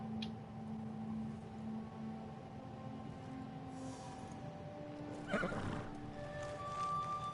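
A horse neighs loudly mid-clip in the video game Ghost Boy 3, a sharp whinny standing out over a steady game backdrop of hooves and ambient tones, with no talking.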